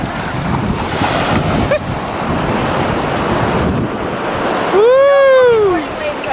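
Ocean waves wash in steadily at Nauset Beach in a calm sea, with wind buffeting the microphone throughout and a person's voice briefly rising over the surf near the end.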